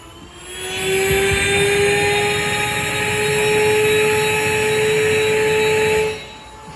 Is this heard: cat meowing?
no